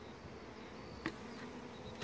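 Honey bees buzz softly in a steady, low drone inside an opened small-cell hive, with a brief louder buzz as one passes close.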